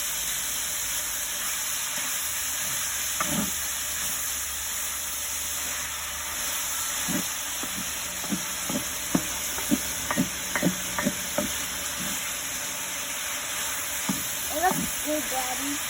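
Bacon sizzles steadily in a pan while being stirred for jambalaya, a constant frying hiss with scattered clicks and scrapes of the utensil against the pan.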